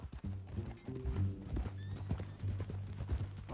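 Horse in the Red Dead Redemption 2 video game, with a loud whinny and snorting close up over rhythmic clip-clop of hooves, all set against low game music.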